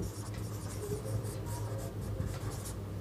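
A pen scratches steadily across paper, writing out a maths solution with continuous close scribbling strokes and no pauses, set over a low background hum.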